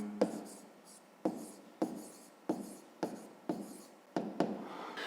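A pen or pencil writes on paper while solving a fifth-grade maths exercise, making about seven short, sharp scratchy strokes spaced unevenly, each fading quickly, heard up close in a quiet room.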